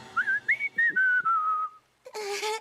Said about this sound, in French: Pourquoi tu siffles comme ça?